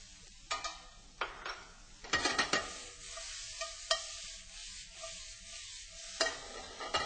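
Precooked Chinese long beans and minced shallots are stirred and warmed in a pan, making a soft sizzle broken by repeated sharp scraping strokes of a utensil, close up, with no talking.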